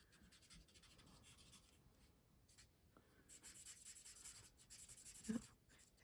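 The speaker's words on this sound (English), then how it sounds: "I'm just coloring that in." A marker or pen scratches across a paper card while coloring, a soft continuous rubbing, close and quiet, with no talking.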